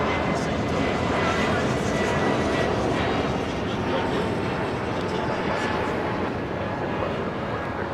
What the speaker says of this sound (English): I'm missing on an A220-300 taking off.